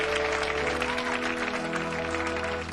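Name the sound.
studio audience applause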